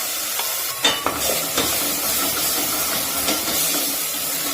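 A continuous loud sizzle of ground bassaru masala paste frying in hot oil, with occasional scraping and stirring clinks close by.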